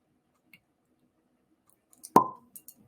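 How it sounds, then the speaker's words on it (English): A cork pops from a bottle of Cooper's Craft bourbon as one sharp, hollow plop, close and loud in a quiet room, followed by a few faint clicks. "quiet on the set for the Cooper's Craft cork pop"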